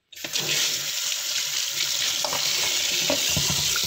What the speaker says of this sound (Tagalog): Ayan, babad ko lang siya dyan sa tubig.